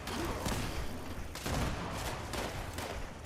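Gatling laser from Fallout 76 firing in continuous dense bursts, a loud, harsh, rapid crackling roar with brief pauses between volleys.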